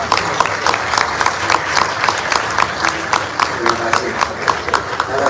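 Audience applause for a Formula E racing team at a meet-and-greet in Jakarta, steady rhythmic clapping from a crowd, loud and continuous, with some voices underneath.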